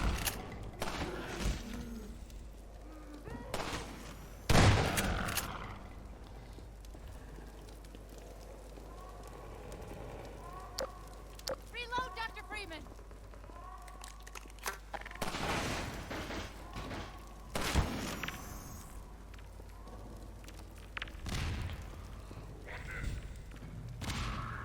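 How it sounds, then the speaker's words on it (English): In Half-Life 2, scattered sniper rifle shots crack out one at a time at irregular intervals against a low rumbling ambience, with a few louder sharp hits among fainter crackles. "I'll let the sniper take the zombies out."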